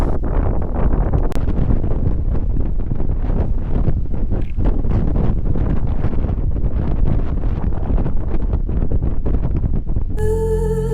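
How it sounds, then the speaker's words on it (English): Strong, steady wind on the Ridgeway ridge roars and buffets against the microphone throughout, loud and unbroken, with no voices. "this is just a little taster of how windy it was here up on the Ridgeway"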